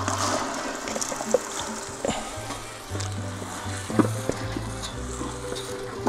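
Chopped vegetables hit melted homemade pork lard in a kettle and fry with a steady, close sizzle, joined by occasional stirring knocks over a low hum.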